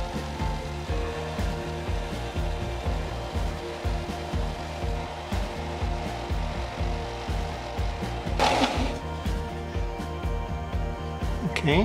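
A belt sander grinds a wooden deep-diver wahoo lure with a steady whirring drone and rhythmic pulsing. A sharper scraping burst comes late, and someone talks over the work.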